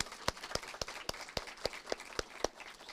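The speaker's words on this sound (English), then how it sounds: "Can we get a round of applause for the parents?" At a college senior awards event, an audience applauds the parents in a fairly faint, evenly paced run of distinct claps that sound from a short distance away.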